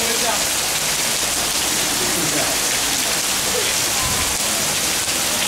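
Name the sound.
heavy rain falling at a temple in Taiwan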